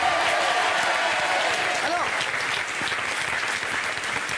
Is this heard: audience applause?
yes